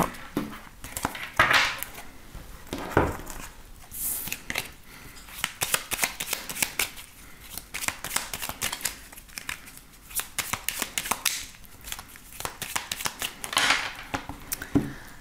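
Tarot cards shuffled and cut by hand during a daily reading, a long run of close crisp riffling and slapping bursts at an irregular rhythm, with no talk over them.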